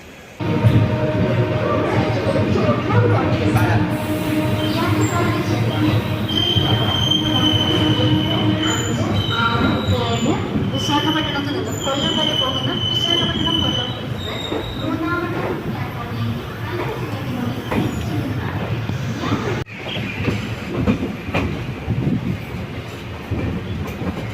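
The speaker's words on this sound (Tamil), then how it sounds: "திருச்செந்தூர் எக்ஸ்பிரஸ் ஜேர்னி எப்படி அமைந்துட்டு பார்க்கலாம் வாங்க" Palakkad-Tiruchendur Express heard from inside a crowded carriage: steady rumbling wheels and clattering over rail joints, with occasional squeals and voices from passengers underneath.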